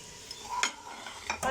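A small onion hitting spices in a cooking pan, with stirring scrapes and short sizzling bursts, fairly quiet and close, with no voices.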